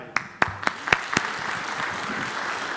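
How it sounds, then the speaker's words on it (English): Applause from the audience at a city council meeting starts with a few sharp, separate claps, then thickens into a steady moderate round of many hands clapping together. "And another round of applause for our young people that are involved."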